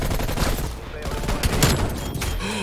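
Dense, rapid gunfire crackles continuously in a Call of Duty: Black Ops Cold War online match with enemy snipers. The sharp, loud shots overlap closely, and a player's voice talks over the battle.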